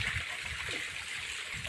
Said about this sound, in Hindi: ये जो पीछे आप कुंड देख रहे हैं और झरना देख रहे हैं, ये हमें नर्मदा तट पर आते हुए मिला।